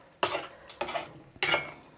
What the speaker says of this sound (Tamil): இப்போது இதை வந்து நல்லா மிக்ஸ் பண்ணிவிட்டு